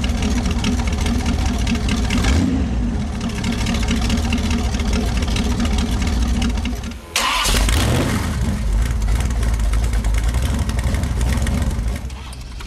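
Boss Hoss motorcycles with big car-type V8 engines idle and rev at a rally in 2005, a loud continuous deep rumble with a sharp burst of throttle midway, no voices.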